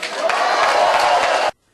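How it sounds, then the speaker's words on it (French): CNDD-FDD party members and central committee applaud at a party gathering, a dense burst of clapping that holds steady for about a second and a half, then cuts off abruptly. "Applaudissez-vous."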